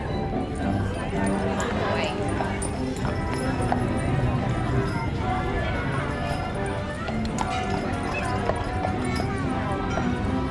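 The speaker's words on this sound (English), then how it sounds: "Let's check with the horse." Horse hooves clop along a street at a theme park, with a horse and carriage passing, steady hoofbeats mixed into continuous crowd chatter and people talking nearby.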